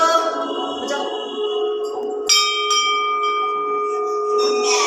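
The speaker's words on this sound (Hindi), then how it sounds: "घंटी बजा दो ले।" Temple bell rung during a Tuesday visit to a Hindu temple, struck twice with bright metallic clangs whose ringing tones linger and overlap, close and clear, with faint voices in the background.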